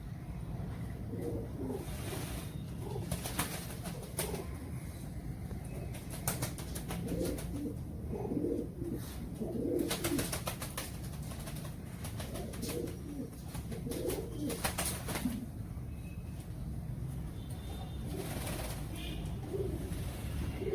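Indian Rampuri pigeons kept as pets, with soft, repeated rolling coos coming from several birds, mixed with brief flurries of wing flaps over a low background hum.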